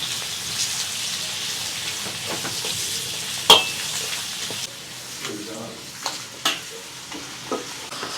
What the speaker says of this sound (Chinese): 葱姜蒜爆香， 来一勺豆瓣酱，炒出红油。